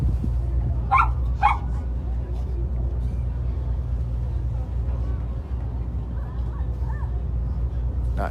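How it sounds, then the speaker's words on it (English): A dog barks twice in short bursts in the background, faint over a steady low engine rumble aboard a sunset cruise boat. "Not sure if you're hearing that dog barking in the background there"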